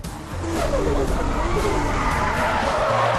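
A car drifting on a UK drift challenge course, tires squealing and skidding continuously through a tight turn with the engine roaring underneath, loud and close.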